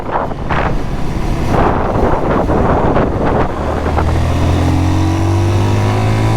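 A 2023 Zontes GK 350 motorcycle accelerates under heavy wind rush, its engine note climbing. A rising tone emerges toward the end as the bike gains speed.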